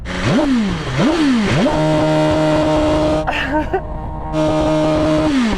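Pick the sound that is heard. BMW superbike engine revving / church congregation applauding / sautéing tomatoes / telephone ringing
BMW superbike engine revving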